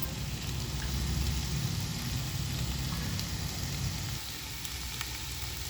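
Okra and coconut fry sizzling steadily in a pan, a dense continuous crackle that stays even and close throughout, with no voices over it.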